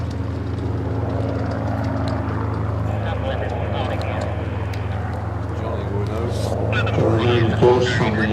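A pair of Hawker Hurricane fighters flying a display, a steady propeller-engine drone heard from a distance under continuous commentary, rising slightly as they come back around.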